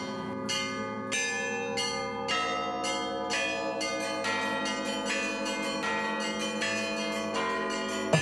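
Church bells in Shipka are rung by hand by a bell ringer, giving a steady run of loud, ringing strikes that overlap and sustain. The strikes come faster and denser toward the end.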